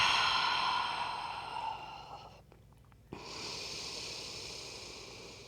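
A deep, slow breath during a gentle yoga flow: a long, soft, airy exhale like a sigh, then a brief pause and a fresh breath, close and steady.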